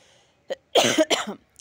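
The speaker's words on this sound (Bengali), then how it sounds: "শীত যাই করে যাচ্ছে না, আমারও কাশি কমছে না।" A woman suffering from a persistent winter cough lets out a brief throat-clearing sound followed by two quick, harsh coughs, close and loud in an otherwise quiet moment, with no speech.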